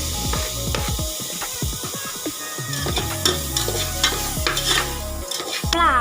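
Tomatoes, turmeric and garam masala frying for biryani while being stirred, a loud close sizzle under rapid, rhythmic scraping and clacking of a spoon against the pan.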